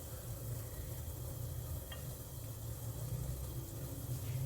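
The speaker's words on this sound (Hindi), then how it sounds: "ये डल गई, ये डल गई अदरक लहसुन की पेस्ट।" Ginger garlic paste fries in a pan with a soft, steady sizzle, quiet and continuous throughout, with no voices.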